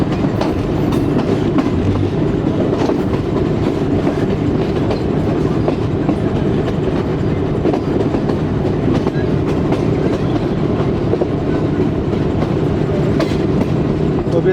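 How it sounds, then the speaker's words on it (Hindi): A passenger train from Rawalpindi to Havelian rolls along the tracks after switching onto a loop line, giving a constant loud rumble with clattering wheels, heard from on board with no voices. "तो ये ट्रैक चेंज करके ट्रेन हमारे लूप लाइन पर आ गई"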